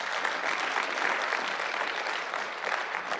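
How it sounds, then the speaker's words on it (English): A symposium audience applauds in a sustained, even roar of clapping that fills the whole stretch at moderate level, with no speech on top. "how about a round of applause"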